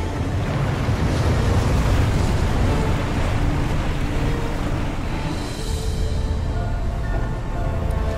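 A loud speedboat engine drones across water in Tomb Raider Underworld, a continuous roar mixed with wash and wind, steady throughout.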